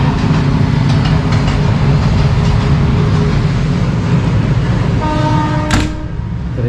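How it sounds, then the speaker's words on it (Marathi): A village train passes near a house, loud rumbling and clickety-clack of the wagons going on steadily, then a short horn blast sounds near the end as the noise eases. "इथे गावाची ट्रेन येत राहते."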